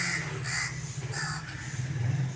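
Several harsh caws from a crow in thick winter fog repeat at short intervals, fairly close and clear above a low steady background rumble.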